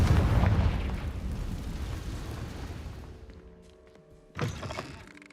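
A fiery spell blast in the Hogwarts Legacy video game, a loud rumbling explosion that slowly fades over several seconds, followed by a second sharp thump near the end.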